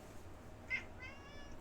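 A single short cat meow rises briefly and faintly in the middle of a quiet room-tone background inside the game Cleaning Simulator, with no talk.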